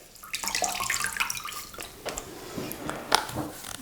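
Cold water splashes and pours onto a rag while bending conduit with a heat gun, a busy watery trickle with scattered drips running steadily for several seconds at close range, with no talking.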